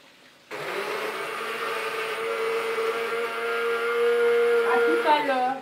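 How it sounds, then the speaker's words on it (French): An electric blender purées onion with a steady, loud whir that starts abruptly and runs without a break, its pitch wavering and shifting near the end. "on va mixer notre oignon"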